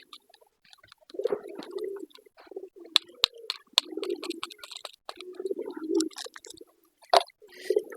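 Soft irregular pecking taps and small scratchy clicks near the ground as pigeons peck at soil, with muffled low shuffling, scattered across several seconds.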